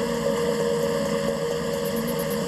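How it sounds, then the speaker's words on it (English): A Top Fuel dragster engine idles during warm-up, a steady droning rumble with a constant pitch, close and loud, with no talk. "During warm-up, the crew chief spot tunes the engine by touch."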